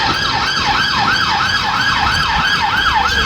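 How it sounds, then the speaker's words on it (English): A police car siren wails continuously in a fast, rising-and-falling yelp, loud and close as the car speeds past, with road noise underneath and no talk. "Could be an ambulance. Is it an ambulance? Oh, it's police."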